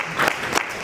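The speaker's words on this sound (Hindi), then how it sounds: "सभी लोग जोरदार तालियों से स्वागत करें" Brief audience clapping welcomes a poet on stage at a mushaira, a short burst of applause from a crowd.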